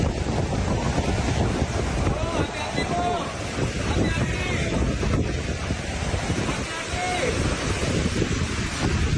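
Heavy rain driven by strong wind sweeps over Bogor, West Java, on a Thursday night, a dense, steady roar of downpour and gusts that fills the whole stretch without pause.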